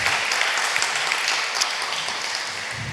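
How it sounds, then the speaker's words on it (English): A crowd at an anniversary celebration claps in a dense, steady burst of applause that holds at a fairly even level for the whole moment. "that deserves snaps or a clap"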